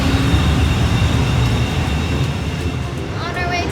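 A train pulling out of a station in Milan, a steady broad rumble filling the whole clip with faint high squeals near the end, loud and continuous with no talk over it.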